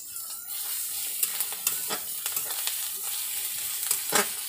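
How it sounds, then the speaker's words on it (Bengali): Ginger paste sizzles in hot oil with onions in a pan, with a steady frying hiss broken by repeated scraping strokes of a spatula stirring, close and continuous without talk. "আদাটা একটু ভেজে নেব যাতে গন্ধ না ছাড়ে"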